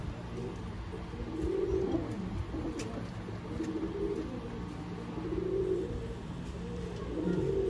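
Sialkoti pigeons coo softly in a repeated, rolling rhythm, several low throaty calls over a steady background hum, moderately close.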